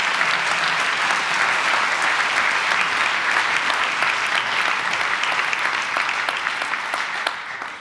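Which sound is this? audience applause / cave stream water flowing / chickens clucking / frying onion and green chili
audience applause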